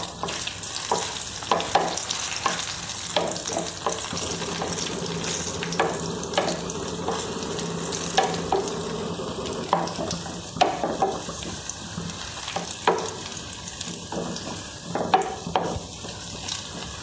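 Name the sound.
cashew nuts frying and being stirred in a pan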